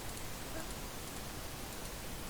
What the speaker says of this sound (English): Around us now, the only sound was the pitter-patter of raindrops on the school roof.